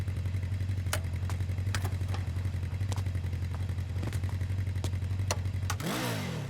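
A motorcycle engine idles steadily nearby, with a low, even rumble and a few sharp clatters on top, then a brief rising rev at the end.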